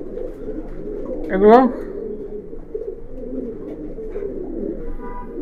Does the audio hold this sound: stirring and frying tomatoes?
no